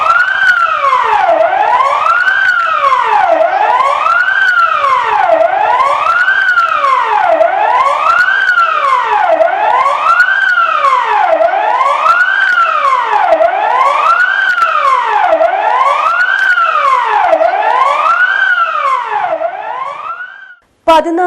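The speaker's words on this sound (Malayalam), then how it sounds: "ഈ സംവിധാനത്തിന്റെ പരീക്ഷണാർത്ഥമുള്ള സൈറൻ മുഴക്കം ഇന്ന് കൃത്യം 4 മണിക്ക് ഉണ്ടായിരിക്കുന്നതാണ്" The disaster management authority's Kavacham public warning siren sounds during a test: one loud wail rises and falls in a steady rhythm for about twenty seconds, then cuts off abruptly.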